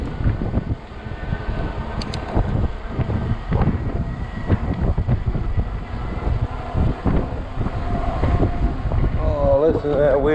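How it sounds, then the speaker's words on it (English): Wind gusts buffet the microphone while riding a 20-inch 48-volt Ecotric fat tire e-bike, a loud continuous rumbling roar that swells and fades throughout, with faint talking mixed in. "Listen to that wind."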